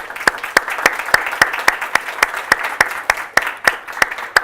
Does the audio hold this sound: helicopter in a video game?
no